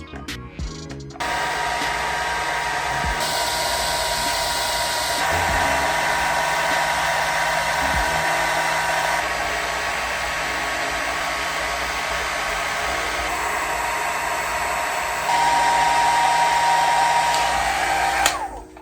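A handheld hair dryer blows on its cold setting over hair paint wax, giving a loud, continuous whooshing roar that shifts slightly in pitch and strength a few times, then stops abruptly at the end.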